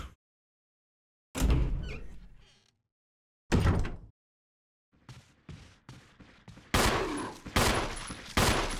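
Gunshots in the video game Resident Evil HD Remaster ring out as several sharp, loud blasts, first spaced apart with silent gaps, then in a quicker cluster of shots near the end, each with a short decaying tail.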